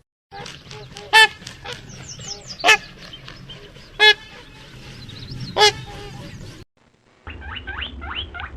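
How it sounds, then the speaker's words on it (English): Swan calling with repeated honking, goose-like notes, several louder sharp honks standing out over a continuous chatter of calls, a brief gap, then more calling; close and fairly loud with no talk. "swan,"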